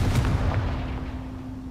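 Confringo fire-blast spell cast in Hogwarts Legacy, a deep booming explosion with rumbling low impacts that decay over a second or so, loud and close.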